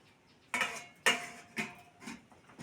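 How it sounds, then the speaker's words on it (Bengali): A metal lid goes onto a cooking pot of taro-leaf bhorta with four sharp metallic clinks in quick succession, each ringing briefly before fading, the later ones softer. "এইবার ঢাকা দিয়ে দেবো"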